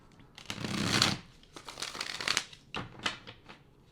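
A deck of tarot-style pick-a-card cards is shuffled close by in quick rustling bursts, soft papery riffles and slides over about four seconds, with no talking.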